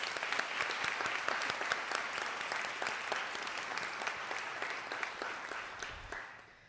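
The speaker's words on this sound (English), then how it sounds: "Can I just get a round of applause for those people?" An audience at a nurse pinning ceremony gives a round of applause, many hands clapping steadily with crisp individual claps. The clapping slowly thins and fades out at the end.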